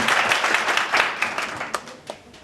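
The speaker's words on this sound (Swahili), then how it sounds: "Piga Yesu makofi nzuri" An audience at a graduation ceremony in Kericho claps together in a burst of applause, loud at first and then thinning out to a few scattered claps.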